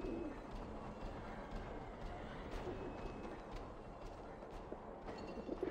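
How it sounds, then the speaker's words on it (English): Pigeons coo softly in the video game Alice: Madness Returns, with a few faint low coos rising over a quiet, steady ambient background. "Pigeons. Lovely little pigeons over here."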